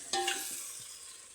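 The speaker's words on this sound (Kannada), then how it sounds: "ಬಿಸಿಬೇಳೆ ಬಾತಿಗೆ ನಾನಿಲ್ಲಿ ಒಗ್ಗರಣೆ ಮಾಡ್ತಾಯಿದ್ದೀನಿ." Spices for bisibele bath hit hot oil for tempering, giving a sudden bright sizzle that starts sharply and fades gradually, close and alone with no talk.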